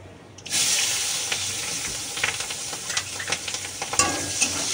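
Dried chilli, nigella seeds and onion hit hot oil in a pan with a sudden loud sizzle, then keep frying steadily while a spatula scrapes and stirs in irregular clicks, close and alone.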